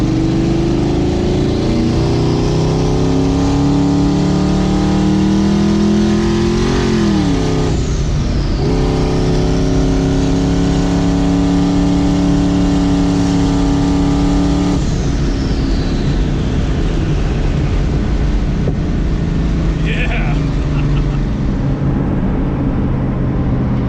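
A twin-turbo LS-swapped Toyota Hilux pulls away, its engine droning loudly and rising through the revs with a falling whine between gears, then settling into a steady cruise, close and continuous.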